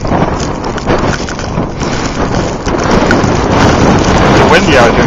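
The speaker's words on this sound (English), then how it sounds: "It's windy out here too, man." Strong wind during a Christmas Eve blizzard in Wichita Falls, Texas, roaring and buffeting the microphone in loud continuous gusts that build toward the end, with no clear speech.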